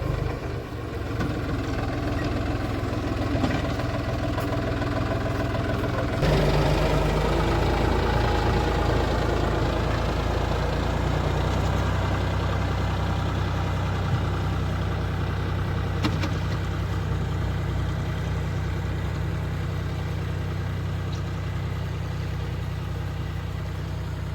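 A tractor engine idles with a steady low rumble that runs throughout, stepping up slightly in loudness partway through and staying close and constant.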